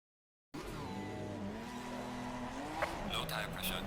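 Race cars launching off the starting grid in Gran Turismo 4, engines revving and rising in pitch with a tire screech, while a voice talks over the roar.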